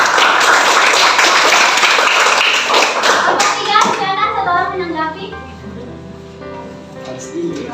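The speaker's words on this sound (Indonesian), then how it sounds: "Oke, tepuk tangan" Students in a school classroom clap together in a dense, loud burst that dies away after a few seconds, with children's voices chattering underneath and continuing afterward.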